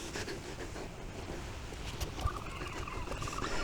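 Seagulls call outdoors, their cries thin and fairly distant, sitting over a steady wash of wind or background noise.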